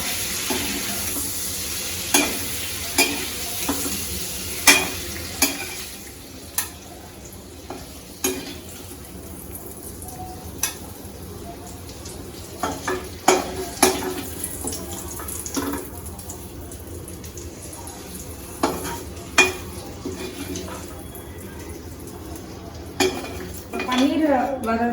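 Paneer frying in butter in a pan, a low steady sizzle broken by repeated clanks and scrapes of a utensil against metal, with occasional louder knocks and quiet speech in places.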